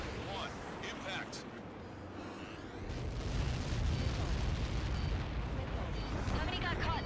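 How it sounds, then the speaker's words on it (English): Massive Helios projectile explosion impact in the video game Ace Combat 7, a deep sustained rumbling roar that swells loud after a few seconds and keeps booming, with radio voices talking over it. "How many got caught in that explosion?"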